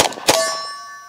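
A bullet strikes a steel target at the shooting range: one bright metallic clang that rings on with a sustained, fading tone after a quick preceding impact.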